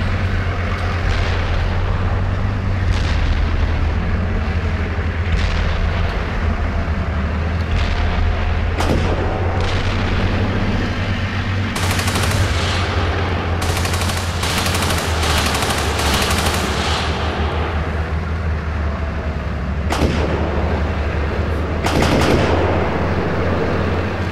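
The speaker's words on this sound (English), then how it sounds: "I presume that's friendly indirect fire" Artillery indirect fire in the tank simulator Steel Beasts Pro PE: loud booming impacts and sharp cracks at irregular intervals over a constant low engine rumble.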